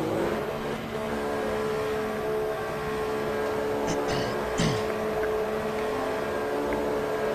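A Formula One race car engine in the F1 2014 video game at the Singapore Grand Prix drones loud and steady, with a brief rising rev and faint scrapes partway through, carrying on without a break and without talk.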